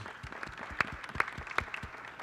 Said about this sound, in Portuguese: Queria pedir uma salva de palmas aí para os palestrantes, agradecê-los.